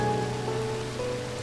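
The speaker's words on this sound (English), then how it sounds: "And it's just constantly raining because no one's here" Steady rain falls across a housing area in a video game, a constant hiss of drops on surfaces with a low ambient hum and no voices.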